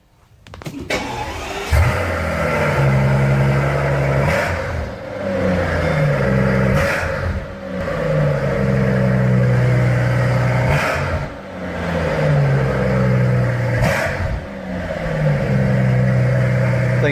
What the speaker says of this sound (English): cold start this thing and rev it a little bit